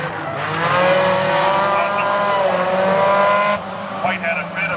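Hornet class race cars battle for the lead out of a corner at Kitley Speedrome, their engines roaring loudly and close, rising in pitch then fading, with a commentator talking over the noise.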